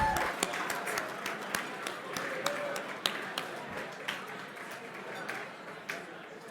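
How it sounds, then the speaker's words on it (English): Scattered, fairly thin applause at an M&A awards gala honoring a Blackford Capital managing director, individual claps spiking irregularly over a steady room murmur, moderately distant and soft. "Let's have a round of applause for Jeffrey Johnson"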